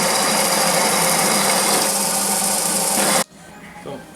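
Power tool countersinking bolt holes for pillow blocks on a plastics shredder, a loud, steady close whine for about three seconds that cuts off abruptly, leaving quiet room noise.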